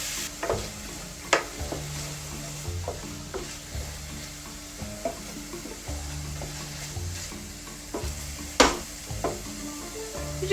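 Onions and mushrooms fry in a pan for a Philly cheesesteak casserole, giving a soft steady sizzle broken by occasional sharp clicks and scrapes as a utensil stirs them, close and fairly quiet.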